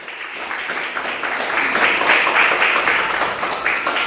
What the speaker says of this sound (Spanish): Dale fuertes palmas a Jesús